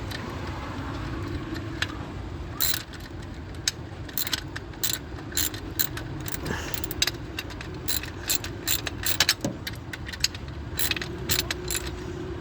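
Hand ratchet tightening the throttle linkage on a red MGB, rapid clicking pawl bursts in irregular runs up close, with short pauses between strokes and no talk.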